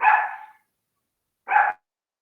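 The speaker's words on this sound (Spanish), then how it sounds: "Perdonen, jóvenes, ahí el perrito." A dog gives two separate barks, one longer and one short, with a gap of silence between them, fairly close and clear indoors during a class.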